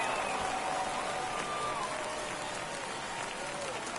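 Video-game baseball crowd in MLB The Show 24 roaring after a home run, a steady, dense wash of cheering and applause that holds level throughout with a few faint whistles riding on top.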